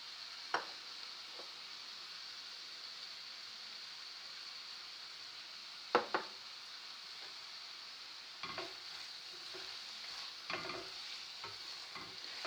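Mushrooms seasoned with salt and pepper fry in a pan, a steady soft sizzle running throughout with a few sharp clicks and scrapes of stirring scattered across it, close by and fairly quiet, no voices.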